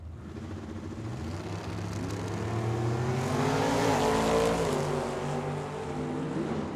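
Drag strip launch of a 1968 Camaro against a bullet-style car: two engines roar and climb steadily in pitch together, loud and sustained, with no talk.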